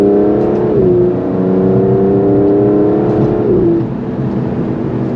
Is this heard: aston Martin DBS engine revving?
yes